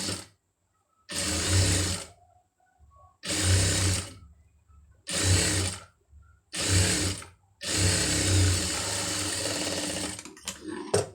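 Sewing machine running stitches along a fabric edge seam, in five loud bursts of steady whirring separated by short silences, the last run the longest and ending in a few clunks.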